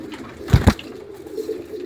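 Young pigeons give a brief, low double coo close by, followed by faint ambient rustling.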